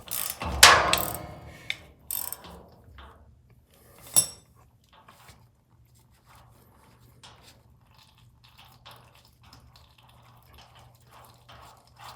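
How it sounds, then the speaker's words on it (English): A 5/8 wrench works the top bolt on a General Filter oil tank filter housing, with a few sharp metallic clanks and ratcheting clicks up front, then faint scattered clinks in near silence. "Then we'll take a 5/8 wrench, remove this top bolt."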